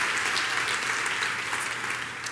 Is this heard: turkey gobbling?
no